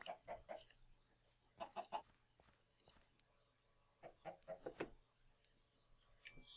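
Chickens clucking in the Minecraft video game, three short bursts of quick clucks spaced a second or so apart, clear and fairly close against quiet background.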